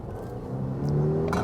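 A Volvo petrol SUV accelerating under hard throttle, its engine note climbing steadily in a smooth, rising drone heard from inside the cabin, growing louder toward the end.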